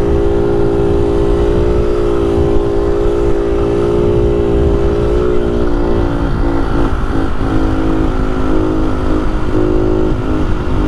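A Rex motorcycle engine revs hard and steadily up close during a final burnout, a loud continuous droning roar that wavers slightly in pitch over several seconds, with no voices.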